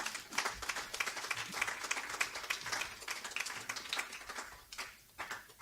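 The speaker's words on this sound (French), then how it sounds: "Acclamons pour la parole du Seigneur." A church congregation applauds at a French-language service, with dense, fairly distant clapping that holds steady and then begins to thin out near the end.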